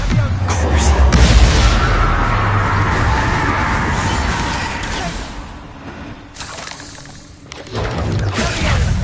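A Bombarda blast spell in Hogwarts Legacy sets off a loud, booming explosion with a crashing, shattering burst that swells and rumbles for several seconds, then fades and flares up again. Game effects and a faint voice sit around it.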